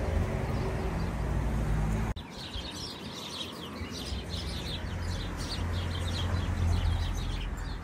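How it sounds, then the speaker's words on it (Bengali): House sparrows chirp and twitter repeatedly in a busy, overlapping chorus over steady low background rumble, fairly close, on a very cold day. "দেখো পাখিতে, চড়ুই পাখিতে কিচিমিচি করছে, ভালোই লাগছে।"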